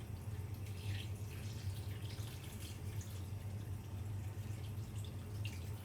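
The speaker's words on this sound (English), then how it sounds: "and then we're going to add 700 ml of water." About 700 ml of water pours steadily into a pot of chicken adobo with chilies and bay leaves, a continuous close splashing hiss with no break and no talking.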